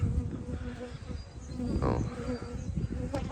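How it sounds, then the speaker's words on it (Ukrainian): A steady insect buzz of honeybees flying close by around a hive, a continuous droning hum with no voices. "Ось вже бджілочка виходить на обліт."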